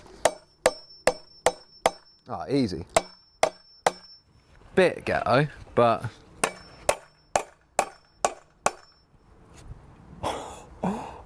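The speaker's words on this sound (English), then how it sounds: "I think with some persuasion from the hammer" A hammer knocks an oversized axle into a handmade wooden bicycle wheel, delivering a regular series of sharp, ringing metallic strikes close by, with someone talking in the pauses between bursts.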